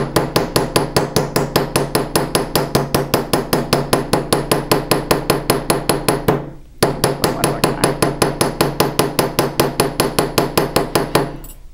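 Metal is hammered on an anvil to texture it, a fast, steady run of sharp ringing strikes with a brief pause midway before the regular blows resume, loud and close.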